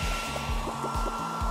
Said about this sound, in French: Pourquoi ne pas utiliser un sèche-cheveux?